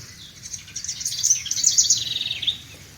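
Small birds chirp in quick, bright, overlapping calls near a garden birdhouse with a nest inside, lively through the middle with a soft low rumble underneath.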